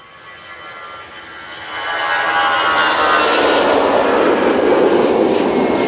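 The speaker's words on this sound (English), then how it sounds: "Aer Lingus A380 going back to Dublin now" An Aer Lingus A380 departs Manchester Airport for Dublin, its engine roar swelling from a moderate hum to a loud, broad, sustained rush after a couple of seconds, with no voices.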